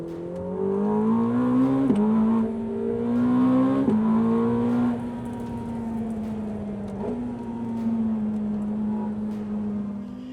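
A bright red Ferrari 849 Testarossa in Assetto Fiorano spec, a high-performance sports car at the Monte Blanco circuit. Its engine note is loud and close, rising through the revs with distinct gear-change steps before settling into a steady drone.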